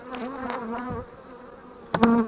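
Honeybees drone around hives in an abandoned apiary surrounded by acacia and linden trees, a steady dense buzz close by that swells louder as a bee passes near the end.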